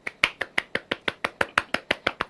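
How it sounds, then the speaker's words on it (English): A child claps for herself, about fourteen sharp, evenly spaced claps in quick succession, close and clear with no talking. "Clap for yourself, Lajaye."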